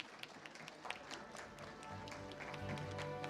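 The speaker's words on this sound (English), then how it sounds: "with a huge round of applause." Audience applause at an India AI Impact Buildathon event, a steady stream of claps from a crowd sustained throughout, moderately quiet and distant with no speech over it.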